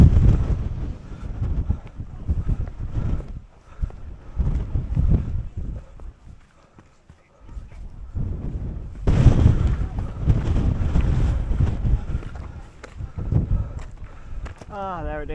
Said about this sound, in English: the wind is fairly strong